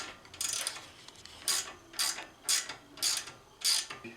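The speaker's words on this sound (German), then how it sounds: "Jetzt können wir genüsslich die neue Sicherungsmutter draufziehen." A ratchet wrench tightening a new lock nut on an Audi 100 A6 C4 tie rod end, six crisp clicking bursts in an even rhythm, close and alone.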